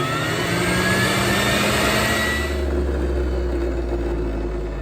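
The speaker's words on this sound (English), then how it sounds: "Or you can switch to high juice." A Breville Juice Fountain Cold juicer motor runs on its high-speed setting with a loud, steady close-up whine and a deep rumble, its pitch shifting as it spins up.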